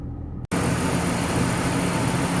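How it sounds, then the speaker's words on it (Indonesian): Engine-driven cooling fan on a BMW E46 325i with the M54 six-cylinder, a broad steady rush of air and engine drone that starts abruptly and holds at a constant loud level, close by. "Ini ada suara noise udara dari kipas yang manual ya"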